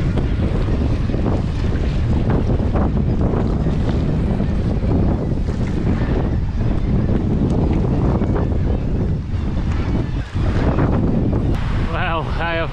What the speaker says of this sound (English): The wind was just constantly against me